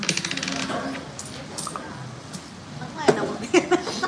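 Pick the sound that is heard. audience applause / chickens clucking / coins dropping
coins dropping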